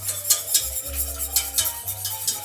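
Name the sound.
whisking a mixture with sugar in a bowl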